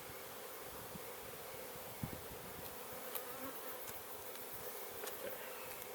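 Honeybees hum in a dense, continuous drone around an open beehive, a steady close swarm sound with faint scattered clicks and taps from handling the frames, and no voices.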